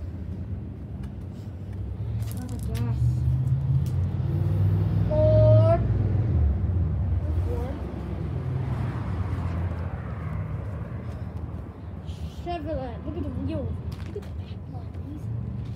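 A car passes on Route 66 by the Wigwam Motel, its low engine and tire rumble swelling and then fading over several seconds while people chat nearby.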